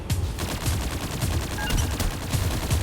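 Rapid automatic gunfire in the shooter game Farlight 84, dense bursts of shots repeating close and loud throughout with no clear talk over them.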